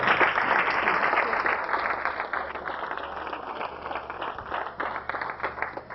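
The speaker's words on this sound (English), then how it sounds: "let's give them a great big round of applause" Sustained audience applause for the cheerleaders at a school sports awards event, a steady crowd of many hands clapping that gradually thins slightly toward the end.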